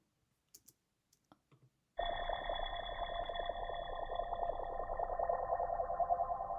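A dry, sustained synth-like ambient drone, time-stretched in PaulXStretch with reverb off, with a wavering, shimmering texture enters abruptly after a few faint clicks and holds steady and loud, with no echo tail.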